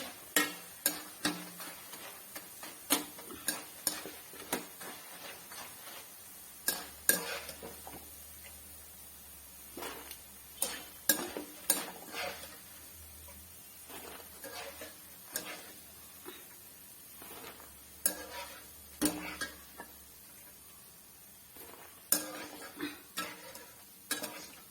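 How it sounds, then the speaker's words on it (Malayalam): A spatula scrapes and clacks against a pan as roasted gram and peanuts fry for a homemade mixture snack, with repeated irregular stirring strokes over a faint sizzle and no talk. "പൊട്ടുകടലയും കപ്പലണ്ടിയും വറുത്തെടുക്കണം"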